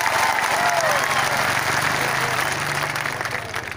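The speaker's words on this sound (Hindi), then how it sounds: "उसको भी ताली मिलना चाहिए।" An audience at a political rally claps steadily in sustained applause, dense and loud throughout before easing slightly near the end, with voices mixed into the crowd noise.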